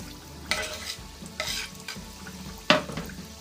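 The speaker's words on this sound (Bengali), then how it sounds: "এবার আমি এগুলোকে তেলের মধ্যে দিয়ে দিচ্ছি।" Pieces of nimki dough dropped into hot oil, giving a steady low bubbling fry broken by a few sharp splashy bursts as pieces go in, close and moderately loud with no talking.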